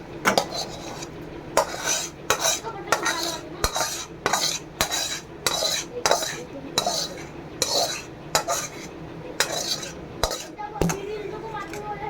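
Cooked whole pointed gourd in mustard-poppy paste is scraped out of a pan, with about a dozen sharp metallic clinks and scrapes of a spatula against the pan at an uneven rhythm, close and fairly loud over quiet gaps.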